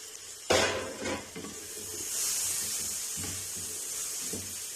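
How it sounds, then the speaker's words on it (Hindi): Chopped tomato goes into sizzling fried spices in a pan for a white bean curry, with a sharp scrape and spoon clatter at first, then a soft steady sizzle and a few more stirring knocks. "अब ये 1 अदद टमाटर हमने काट के रखा हुआ है वो डालेंगे"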